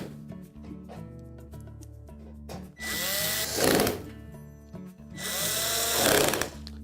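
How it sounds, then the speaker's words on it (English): A power drill drives screws while a Frigidaire range is reassembled after a broil element replacement, with two long whirring bursts close to the microphone after quieter handling noises. "make sure that screw holes all line up before you tighten any screws"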